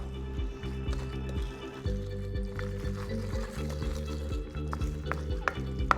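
Zucchini carrot muffin batter being stirred by hand in a bowl as self-raising flour is worked through, a steady close scraping with repeated soft strokes and knocks, a low rhythmic pattern running throughout without talk.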